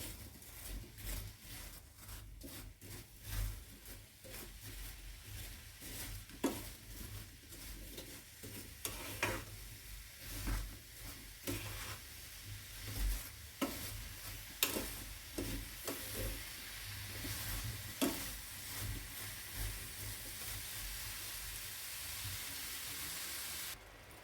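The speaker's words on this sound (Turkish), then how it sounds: "ben bu şekilde yavaş yavaş karıştırdım" Apples cooking with sugar in a pan on the stove are stirred slowly and steadily, with soft scraping strokes over a quiet continuous sizzle and hiss, no talk.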